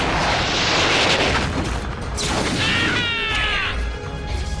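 MechWarrior video game weapons firing and exploding: a loud booming blast and crashing impact, followed by a whining, descending metallic tone as the explosion rumbles on.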